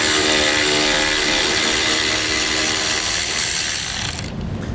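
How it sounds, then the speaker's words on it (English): A hand ratchet with a 10mm socket loosening a small bolt on a 2017 Chevrolet Spark during base plate installation, giving a loud, steady rapid clicking of the pawl for about four seconds before stopping abruptly. "Now the socket we'll use is going to be 10mm."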